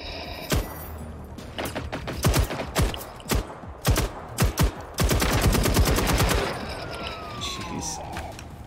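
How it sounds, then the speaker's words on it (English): Gunfire in the video game Generation Zero crackles in bursts and single shots, with a sustained automatic volley, followed by a fading siren-like whine. "I hear lots of gunshots."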